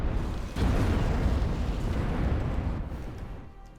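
Bombers attacking in the real-time strategy game Ashes of the Singularity, a sustained loud rumbling barrage of explosions that swells after a faint start and slowly fades toward the end, with no talking.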